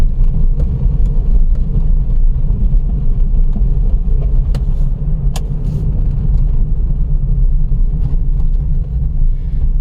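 Car driving at night through Jim Corbett National Park forest, a low continuous engine rumble and road noise with a few faint clicks, steady and close.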